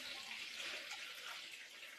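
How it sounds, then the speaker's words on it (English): Water is poured from a container into a bowl of bread dough mix, a steady soft splashing hiss that runs evenly throughout, quiet and close, with no talking. "So it says that we're supposed to add the water."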